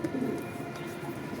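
Domestic pigeon cooing at home, a soft low murmuring coo over steady background noise, near and faint, with a slightly stronger burst early on.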